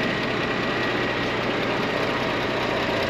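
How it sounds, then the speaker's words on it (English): A drawbar car transporter truck, a small tractor unit with a long trailer, idling steadily with a broad, even engine rumble and hiss that stays constant and fairly loud. "it's a drawbar unit, so it's a small tractor unit that carries the cars"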